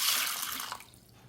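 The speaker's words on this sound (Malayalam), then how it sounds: "ഇതേപോലെ വെള്ളം ഒഴിച്ചിട്ടാൽ മതി." Water being poured over sago pearls in a bowl to soak them while making idli batter, a close, steady splashing pour that tapers off near the end.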